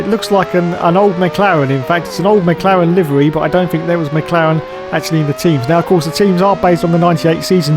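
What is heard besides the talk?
synthesized F1 car engine sound from 1998 F1 video game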